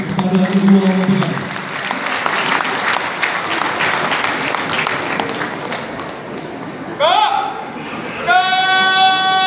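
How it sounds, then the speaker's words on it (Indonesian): Guests at a wedding with a military sabre-arch ceremony applaud the bride and groom, a sustained crowd clapping under a voice, followed by rising musical tones. "mari kita berikan tepuk tangan yang meriah kepada kedua mempelai"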